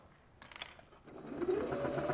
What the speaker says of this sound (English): I'm just going to quickly stitch all the way around the top.